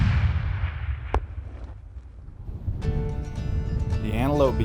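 A single sharp hunting rifle shot cracks out at a pronghorn antelope in open Wyoming country, loud and sudden against quiet wind noise, followed a few seconds later by a voice.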